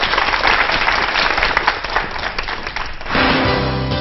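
A studio audience at a televised lecture claps loudly and steadily in welcome, then the clapping gives way to a short burst of music near the end.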